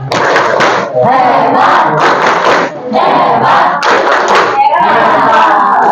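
Classroom of students doing a rhythmic group clap-and-chant cheer, loud bursts of clapping and shouted voices repeating in about four regular waves with short pauses between.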